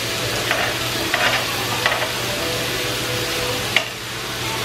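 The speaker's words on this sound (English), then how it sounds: "we have to eat Korean barbecue at home" Korean barbecue meat sizzles steadily on a grill indoors at home, a close, constant frying hiss with a few light clinks and scrapes of utensils and a steady low hum from a nearby air vent.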